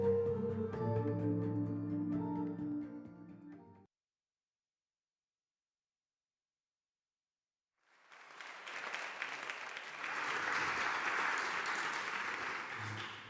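Audience applause at a human rights film festival award ceremony rises after a silent gap, following a stretch of music, and builds into a full, sustained wash of clapping to the end.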